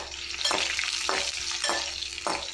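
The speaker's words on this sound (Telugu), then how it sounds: "ధనియాల తర్వాత మనం అల్లం వేయడం జరిగింది. బాగా 5 మినిట్స్ అలాగే ఆయిల్లో బాగా వేగిపోవాలి" Ginger and coriander seeds fry in hot oil for a ginger pickle, giving a steady bright sizzle broken by four evenly spaced stirring scrapes, close and moderately loud, with no speech.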